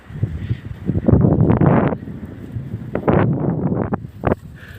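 Strong gusts of wind blow through a forest near Ooty, roaring in two loud buffeting surges against the microphone with calmer rustling between them.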